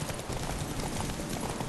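Horse hooves galloping in The Witcher 3, a dense steady drumming of hoofbeats that fills the whole stretch, loud and close, with game ambience layered beneath and no voice over it.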